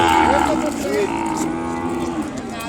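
An Ongole calf at the Kodad cattle market lets out one close, loud, drawn-out moo over a low murmur of market noise.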